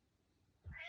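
A cat lets out a single short, close meow near the end, after a quiet stretch with only faint background noise.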